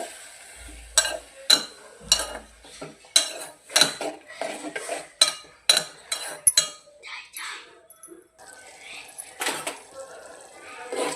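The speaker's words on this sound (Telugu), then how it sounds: "తర్వాత ముందుగా కట్ చేసుకున్న టమాటాలు మిరపకాయలు వేసి కలపాలి" A spoon stirs chopped tomatoes and chillies in a metal pan for a home-style tomato curry. There are repeated clinks and scrapes of utensil against pan in an irregular rhythm, close and fairly loud, with a few quieter gaps.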